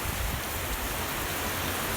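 Rain pours during a wind storm, a dense, continuous roaring hiss, loud and close, with no voices.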